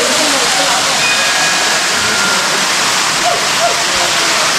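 Broadband rushing water from the waterfall at Sadasiva Kona, a steady, close roar filling the whole clip, with faint voices in the background.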